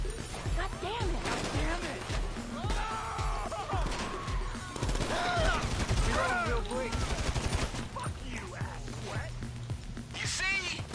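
Automatic weapon gunfire in a Grand Theft Auto game, rapid bursts crackling through a busy, loud mix as someone talks over it throughout.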